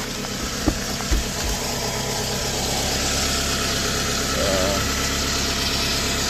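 A 2009 Toyota Camry SE engine idles steadily after an oil change, a low continuous hum with a couple of brief knocks near the start.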